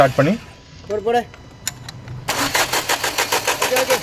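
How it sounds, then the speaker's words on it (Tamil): A Renault Duster 110ps diesel engine with a newly fitted first-cylinder injector cranks and catches, settling into a loud, close, rhythmic idle after brief talk and a few clicks beforehand. "டீசல் வரதுக்காக வண்டியை ஸ்டார்ட் பண்ணி"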